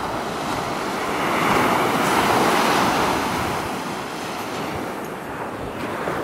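Ocean waves wash onto a beach on Maui in a continuous loud roar of surf that swells and recedes, with some wind buffeting the microphone and no voices.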